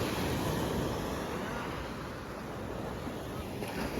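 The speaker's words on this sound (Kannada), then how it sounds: "ಈ ಅಲೆಗಳ ಶಬ್ದ ಕೇಳಿಸ್ಕೊಳ್ಳೋದು ಒಂಥರ ಚೆನ್ನಾಗಿ ಅನಿಸುತ್ತೆ" Continuous broadband roar of surf and wind at night on a beach at Padubidri, steady and fairly loud, with waves washing in the background and no clear talking.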